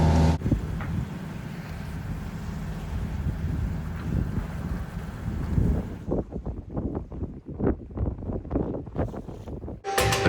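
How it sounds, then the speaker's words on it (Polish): Strong wind in a harbour on Zakynthos buffets the microphone in a steady roar, then breaks into irregular gusty bursts and thumps toward the end. "Tak jest wielki wiatr"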